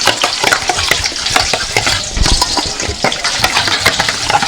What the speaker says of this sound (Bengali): এটা দইটাকে ভালো করে ফেটাতে হবে, ফেটিয়ে ভালো করে সব মশলাগুলো মিশিয়ে নিতে হবে।